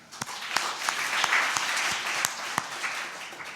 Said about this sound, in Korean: 서옥필 변호사님께 다시 한번 박수로 청해 듣겠습니다.